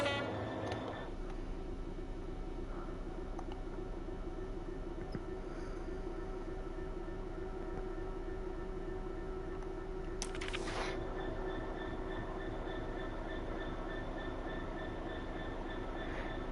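Freight train hauling empty carriages in Train Sim World 6, a steady rumbling drone with a brief high hiss partway through, continuous and even with no talk.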